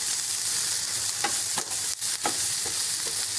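Browned onions stirred in a frying pan for lasagna sauce: a soft, continuous sizzle broken by a few sharp scrapes of the utensil near the middle, close-up with no talking.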